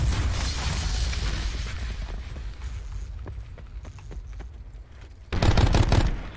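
Rapid gunfire rattles through a Black Ops 4 match, a dense burst of shots up front thinning to scattered cracks, then a sudden loud, close volley near the end.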